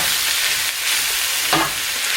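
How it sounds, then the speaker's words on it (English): Crumbled tofu scramble stirred in a hot pan, a steady bright sizzle with a couple of scraping spatula passes, close and with nobody talking. "So this is just the tofu scramble that I crumbled. And so just gonna start stirring it in there."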